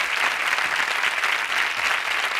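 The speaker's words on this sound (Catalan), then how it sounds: "repetim aquest aplaudiment de simpatia" An audience applauds at a televised stage magic show, a steady, even patter of many hands clapping together at moderate volume with no voices over it.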